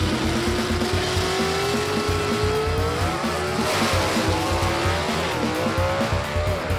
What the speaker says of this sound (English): keeps his foot stuck in it, but that's going to be too much Jaron Purdue right there as that car goes straight and true